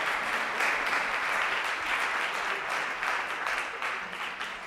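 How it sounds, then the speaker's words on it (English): An audience at a mathematics presentation claps in a dense, sustained round of applause that stays loud and close before tapering slightly toward the end. "Everyone give a round of applause."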